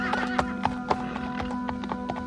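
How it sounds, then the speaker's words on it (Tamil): Horse hooves clatter in a quick galloping rhythm of sharp thuds, loud and close, over a steady tonal hum with a neighing tone mixed in, as in a dramatized storytelling scene. "குதிரை குளம்படியின் சத்தம்"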